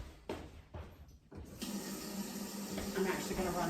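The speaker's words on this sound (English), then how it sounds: "I'm actually going to run hot water." Hot water runs from a kitchen tap while a meatloaf and sweet potato meal is being prepared, a steady close splashing stream that starts after a few brief clatters and continues unbroken.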